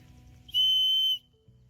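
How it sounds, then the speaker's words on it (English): A small whistle on a camping survival bracelet blown once, a shrill, piercing tone lasting about half a second, close and loud against quiet background. "This one has a whistle."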